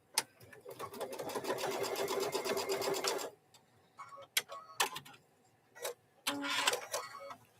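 A sewing machine stitches fabric corners for microwave bowl koozies in a steady, close burst of about three seconds, then stops, followed by scattered clicks and handling taps.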